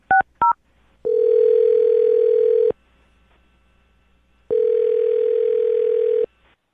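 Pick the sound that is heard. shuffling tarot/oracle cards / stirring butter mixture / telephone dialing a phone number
telephone dialing a phone number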